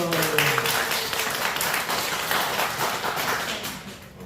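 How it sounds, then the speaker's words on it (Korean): An audience, likely a church youth group, applauds with steady, dense clapping that fades slightly toward the end, with faint voices underneath. "박수."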